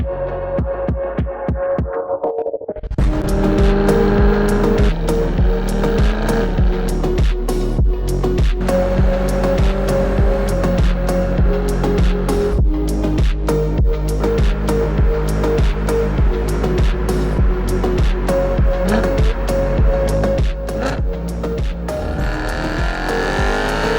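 A 2009 BMW E90 M3 drives past loudly with a strong engine note. The pitch climbs through repeated gear pulls, with no voices heard.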